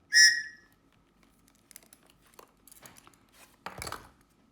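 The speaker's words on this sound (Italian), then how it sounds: "il tipico fischietto della Tops da sopravvivenza, da utilizzare in caso di emergenza" A single sharp, shrill whistle blast from a Tops survival whistle on a Tops Scandi Trekker knife opens, followed by quiet clinks and rattles of handled gear.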